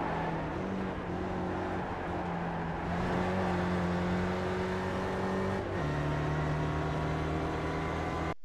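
Spec Racer Ford race car engine in iRacing at Zolder, a steady buzzing drone climbing in pitch then dropping at each upshift, continuous and moderately loud.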